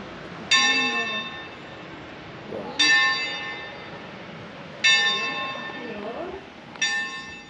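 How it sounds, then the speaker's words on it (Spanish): Church bells ring out in four slow, evenly spaced strikes in central Murcia, Spain, each bright tone hanging and fading, with faint voices in the background. "¡Ahí nos reciben las campanadas!"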